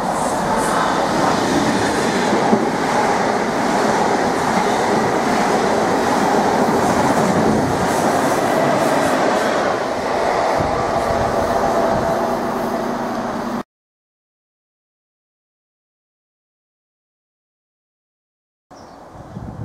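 A Greater Anglia Class 172 unit and a Mark 3 set pass through Needham Market station, giving a loud, steady rumble with clickety-clack from the wheels for about fourteen seconds, then sudden silence before the noise returns briefly at the end.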